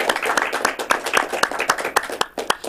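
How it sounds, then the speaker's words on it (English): A Toastmasters club audience at a Cincinnati meeting claps in a dense, lively round of applause, many close, sharp hand claps overlapping steadily throughout. "And let's give Steve a round of applause for his role as Toastmaster today"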